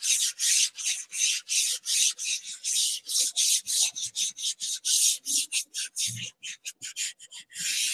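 Black pastel being rubbed firmly into a pastel drawing, producing a dense series of close, raspy strokes in a quick steady rhythm that become shorter and choppier toward the end.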